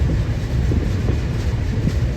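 Loud, steady rumble of the Ruposhi Bangla Express passenger train at a station, with a faint rhythmic clatter, continuous and close.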